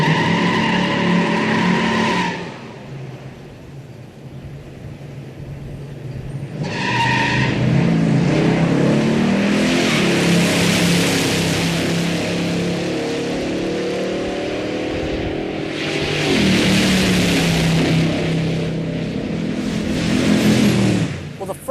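A Boss 429 muscle car launches hard with its tires spinning, the engine roaring and rising through gears while the tires squeal, loud and close for most of the run, with voices heard faintly.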